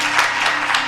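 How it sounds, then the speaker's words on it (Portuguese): Church congregation breaking into steady applause for a woman named Carol, a dense wash of clapping close and loud, with no voices over it. "Uma salva de palmas para Carol."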